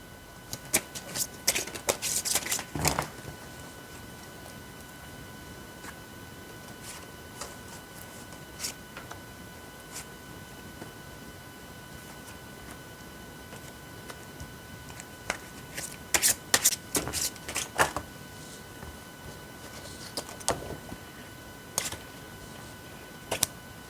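Tarot cards are shuffled in quick riffling bursts, crisp close snaps and flutters clustered early and again later, separated by quiet stretches with faint taps.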